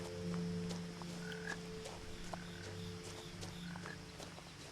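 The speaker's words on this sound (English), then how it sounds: "I hear that frog again." Frog croaking in the video game What Remains of Edith Finch, a steady chorus of repeated croaks over an outdoor ambient bed, with brief chirping calls scattered through it.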